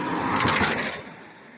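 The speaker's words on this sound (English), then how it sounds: "I got a car coming. I got to get out of the way." A car passes on a rural road, a short broadband whoosh that swells loud and close, then fades quickly as it goes by, with no talking.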